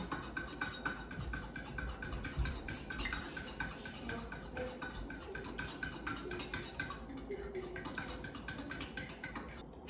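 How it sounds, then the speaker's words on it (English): Two eggs are whisked with a fork, giving fast, rhythmic, evenly spaced clicks of metal against the bowl that continue steadily for about ten seconds, close and fairly quiet, with no speech. "I will take a fork and whisk them until combined"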